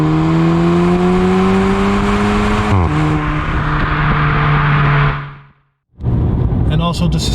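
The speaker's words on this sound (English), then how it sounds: "Also, the mid silencer is deleted on this car for a much louder and sportier sounding exhaust." A loud, raspy exhaust on a Stage 2 tuned Volkswagen Polo GTI 6C with the mid silencer deleted drones steadily with a rising engine note, then cuts out abruptly and restarts, with a voice talking over it.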